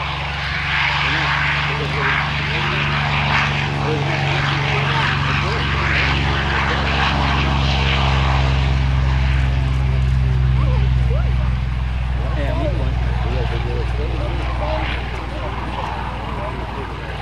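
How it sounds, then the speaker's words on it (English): Navy legacy flight aircraft passing at the 2007 Dayton airshow, a loud, steady propeller-engine drone that swells and holds for the whole span, with faint voices in the background. "I want you to listen to this aircraft."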